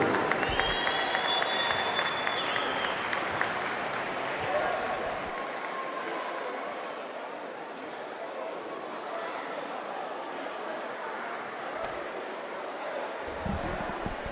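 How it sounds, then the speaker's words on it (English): A high-school gym crowd applauds the inaugural Hall of Fame inductees at a basketball rivalry game, a broad steady wash of clapping and cheering that fades slightly midway, with a voice talking over it. "How about a big round of applause for the entire group?"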